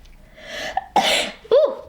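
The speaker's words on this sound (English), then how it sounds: "I had to sneeze." A single sharp sneeze comes up close, with a quick breathy intake before it and a short voiced exhale after.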